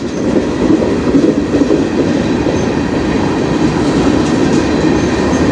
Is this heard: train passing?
yes